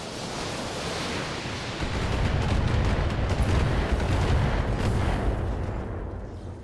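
Artillery fire landing on a target in the Battletech video game: a loud, sustained roar of rumbling, booming blasts that swells after the first couple of seconds and continues as a dense, noisy barrage before easing off.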